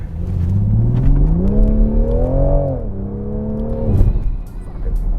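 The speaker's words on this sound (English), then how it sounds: "It just picks up and goes. Like it's just an engine noise." A tuned 2019 Toyota Supra GR in sport mode pulls hard, the engine note rising steadily in pitch through one long acceleration, then dropping back near the four-second mark before building again, loud and close with no talk over it.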